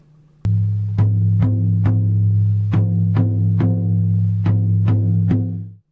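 A traditional First Nations drum struck in a steady, deep beat, about eleven booming hits in slightly uneven rhythm over a continuous low resonant drone, loud and close, with no voices.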